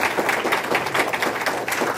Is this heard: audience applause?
yes